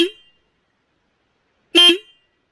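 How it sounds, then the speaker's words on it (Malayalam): The single horn on a Royal Enfield Classic 350 BS6 motorcycle sounds two short, loud honks about two seconds apart, with silence between and no speech. "ഇതൊരു സിംഗിൾ ഹോണാണ് കൊടുത്തിരിക്കുന്നത്. ഹോണിൻ്റെ സൗണ്ട് എങ്ങനെയുണ്ടെന്ന് നമുക്കൊന്ന് കേട്ട് നോക്കാം."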